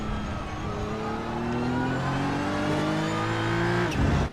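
A GR86 race car on track at Daytona International Speedway in a racing video game, its engine droning steadily and rising in pitch as it accelerates past, with a brief louder swell near the end.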